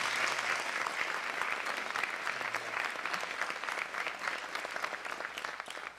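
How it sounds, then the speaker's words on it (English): Sustained, dense applause from an audience at a fifth-grade graduation, steady and loud for several seconds with no talking. "Yes, a round of applause for them."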